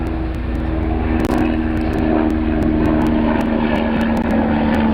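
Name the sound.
police helicopter flying overhead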